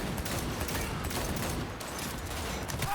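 Gunfire in the video game Cyberpunk 2077 forms a dense, continuous rattle of rapid shots that fills the whole stretch at steady loudness, with no gaps and no clear talking.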